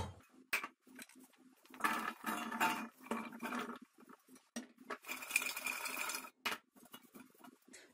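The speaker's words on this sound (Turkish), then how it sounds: "Şimdi ayvalarımı tencereye alıyorum." Quince pieces dropping into a cooking pot in a quick irregular run of small clunks and taps, close by, with short pauses between bursts.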